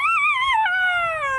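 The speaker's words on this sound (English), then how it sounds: "he began howling" A jackal's single drawn-out wailing howl, close and loud, starting high and gliding steadily downward.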